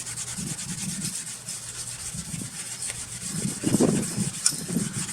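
Steel-wool SOS pad scrubbing a Buick wheel rim, a close, steady rubbing and grinding with louder bursts of strokes toward the end, no speech.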